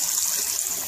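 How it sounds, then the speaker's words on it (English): Cold water runs steadily from a kitchen tap into a pot, a continuous close hiss and gush with no talking. "I'm going to put in cold water here"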